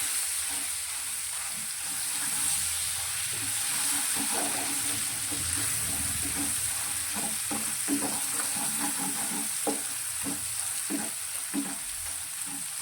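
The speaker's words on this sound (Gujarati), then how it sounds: "ધીમા ગેસની ફ્લેમ પર મસાલાને સારી રીતે સાતળી લઈશું" Garlic-chilli masala paste sautés in oil over a low flame, a continuous close crackling sizzle broken by repeated soft scrapes and stirring taps in the pan.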